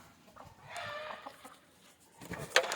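Faint clucking from a few free-range country hens rises and falls in scattered bursts, with a sharper squawk near the end against quiet surroundings, around midday feeding on rice bran.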